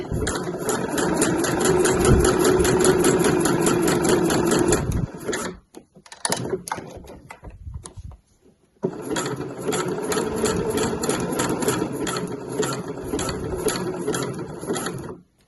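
A sewing machine runs a zigzag stitch down the base of a weekender bag, a steady fast mechanical whir that stops briefly mid-way with a few handling clicks, then resumes close and loud.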